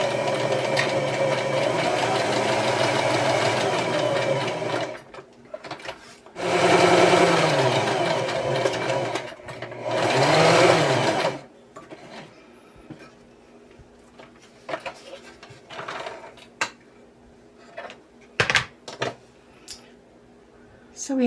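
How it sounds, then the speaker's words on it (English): A home sewing machine stitches fabric for small Christmas tree ornaments with a rapid mechanical whirring in three bursts, then stops and leaves quiet handling noises and a few clicks. "So I'm going to go ahead and do it with my sewing machine."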